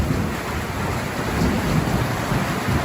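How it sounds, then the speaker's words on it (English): A heavy afternoon thunderstorm pours steady loud rain over a deep, continuous rumble of thunder, a dense wash of sound with no voices. "Listen to that thunderstorm."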